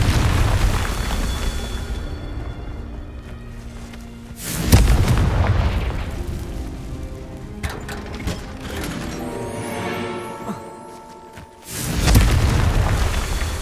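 Confringo spell blasts in the video game Hogwarts Legacy: several deep booming explosions, loud and close, with rumbling tails and mechanical clanks between them.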